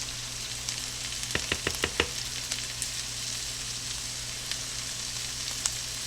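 Garlic is added to a pan for chicken stroganoff and fries with a soft, steady sizzle, while a few quick clicks of a utensil sound near the start. The whole sound is fairly quiet and no one speaks.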